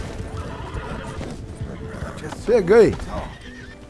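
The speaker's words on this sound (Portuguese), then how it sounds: "Mais cavalos selvagens ali." Wild horses in a horse-taming ranch video game, with a loud close whinny rising and falling near the end over background game sounds and light hoof clatter, while someone talks.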